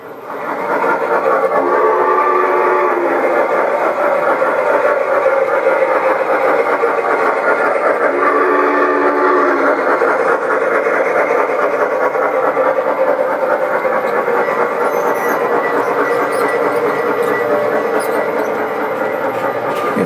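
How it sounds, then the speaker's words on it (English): G scale (1/24th) model train engines rumble and hum continuously and loudly for the whole stretch, a steady mechanical drone with rolling wheel noise and no voices. "we've got some beautiful engines running"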